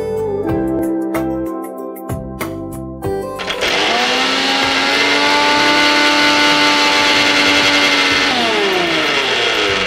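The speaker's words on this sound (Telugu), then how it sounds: "సో ఫస్ట్ ఇవి మిక్సీ పట్టేసుకుందాం" A mixer grinder pulses on and off a few times while grinding walnuts and cashews, then runs loud and continuously. Its steady high-pitched motor whine stays close and dominant, with no talk over it.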